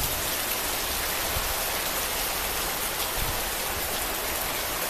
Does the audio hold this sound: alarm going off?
no